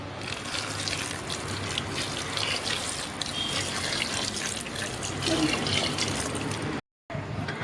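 Water pours steadily into a steel pot holding jaggery, a continuous close splashing rush that runs for several seconds before briefly cutting out, with faint talk underneath.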